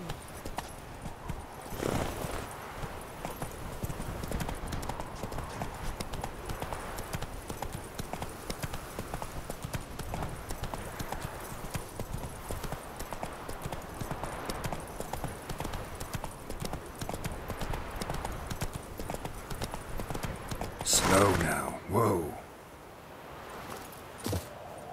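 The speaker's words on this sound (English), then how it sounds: "Run, Roach" Hoofbeats of a horse galloping in The Witcher 3, a fast, steady rhythm of clopping that continues throughout, with a brief louder burst near the end and faint voices in the background.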